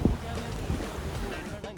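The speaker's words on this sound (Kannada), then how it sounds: "ಹಾಗೆಯೇ ಸಮುದ್ರದ ಅಲೆಗಳು ಕೂಡ ತುಂಬಾ ಜೋರಾಗಿ ಉಂಟು" Strong sea waves break on a beach lined with stone, making a short, windy roar of surf with gusts buffeting the microphone.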